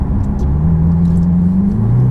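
A Ferrari 488 Pista fitted with an Inconel exhaust drones loudly and close by, its engine note holding steady and then rising slightly as it revs.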